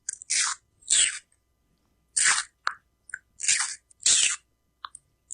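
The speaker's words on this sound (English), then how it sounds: "This is actually a turtle eating a boat carved out of watermelon." A turtle bites and chews a boat carved out of watermelon. Close, wet crunches and squishy bites come in short, separate bursts with quiet pauses between them.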